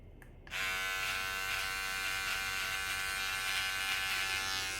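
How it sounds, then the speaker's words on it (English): A Max Groom electric shaver switches on after a brief quiet moment, then gives a steady, close, high-pitched electric buzz that holds evenly with no talking. "So Max Groom should be all you need, okay? For all your shaving your body, shaving your head, shaving your face."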